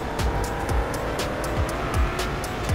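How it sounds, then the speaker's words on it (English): A Yukon Escalade in the Car Crushers 2 video game drives with a continuous, loud engine drone, and short tire squeals and whooshes recur throughout. "This baby kind of sounds good. It's got some speed for a Yukon Escalade."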